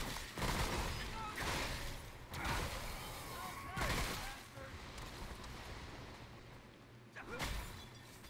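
Several loud gunshots from a gun in the video game Remnant: From the Ashes, spaced a second or two apart and crashing through a busy game soundscape.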